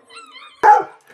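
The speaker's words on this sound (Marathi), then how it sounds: "अजून एक कुत्रा आलं" A single sharp bark from a dog at home rings out close by, after a brief low whine or murmur.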